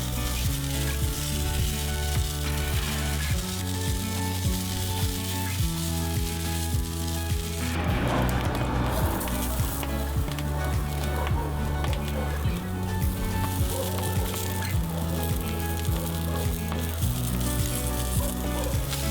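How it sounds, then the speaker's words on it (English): Lamb chops and vegetable skewers on a grill give a steady crackling sizzle throughout, underneath a looping background music track. "Grilling them for about 2 minutes per side."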